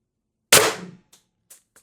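A Beeman BP50 air pistol fires one shot of a 12.7mm 1.2g nylon precision bearing, giving a sharp, loud crack that fades quickly. A few faint clicks follow in an otherwise quiet setting.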